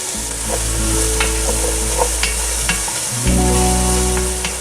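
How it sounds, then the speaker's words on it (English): Diced onion sautés in a pan over medium heat, a loud, close, continuous sizzle with a low steady hum beneath and faint clicks of a utensil moving through it. "now we're gonna add in our onion that we diced up. And we're just gonna let that get really soft"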